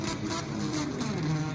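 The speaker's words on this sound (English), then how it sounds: "the exhaust on that thing is insane" A Bosozoku-style modified car's loud exhaust revs in short pulsing bursts, a raspy, throaty engine note rising and falling close by.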